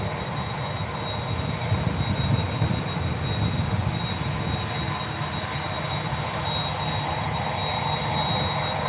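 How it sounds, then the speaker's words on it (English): A 21-year-old United Airlines Airbus A319 jet at San Francisco International Airport gives a steady, broad engine roar with a thin high whine, heard at a moderate distance and holding level throughout. "It's United Airlines Flight 2336 heading to Seattle in that A319"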